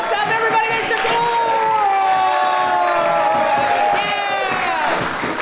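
Loud crowd of an improv comedy show audience cheering, whooping and shouting continuously, with excited voices rising over a dense wall of noise for several seconds.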